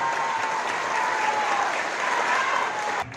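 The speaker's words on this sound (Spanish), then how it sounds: "un fuerte aplauso por este primer logro." Dense, steady applause from a crowd at a Puebla announcement of pay raises for traffic wardens, loud and continuous for about three seconds before cutting off sharply.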